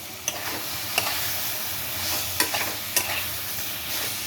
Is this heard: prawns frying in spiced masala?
yes